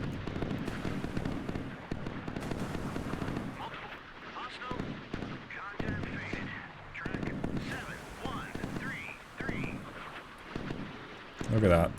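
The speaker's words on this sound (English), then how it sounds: "They're sending out missiles, and yeah, they're going to start intercepting some missiles." Naval missiles launched and shot down in the naval combat game Sea Power, heard as repeated booming blasts and rumbling bursts, some close and loud, with a sharp heavy burst near the end.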